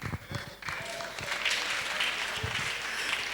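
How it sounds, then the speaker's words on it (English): An audience at an academic talk on theological education claps, a steady wash of applause from many hands under brief faint voices. "let's clap for him again"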